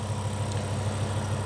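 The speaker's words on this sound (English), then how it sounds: "What a masterpiece of an engine that is." A BMW E60 M5 engine idles steadily while warming up, a close, continuous low rumble with a faint mechanical whine on top and no voices.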